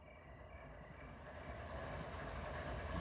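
A freight train in the Run 8 Train Simulator III game rolls along with a steady low rumble and faint rhythmic clatter, growing slightly louder, with no talking.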